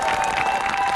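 A graduation crowd gives a short, dense swell of applause with some cheering mixed in, loud and continuous, with a faint steady tone running underneath.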